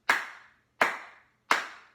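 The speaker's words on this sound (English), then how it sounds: "clapping 3 times" Three sharp hand claps, evenly spaced and close by, each ringing out briefly into silence as part of a guided energy exercise.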